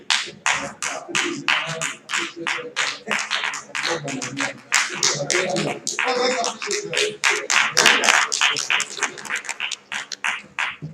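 An audience at a CSIR Crops Research Institute event claps after a talk, with sharp, separate claps arriving in quick, irregular bursts that come close and loud throughout.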